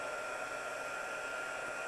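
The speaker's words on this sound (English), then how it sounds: "I'm just going to heat this up a little bit because I want it to dry right away." A heat tool blows steadily to dry ink on a stamped card, a constant, soft hissing whoosh with no change in pitch for the whole stretch.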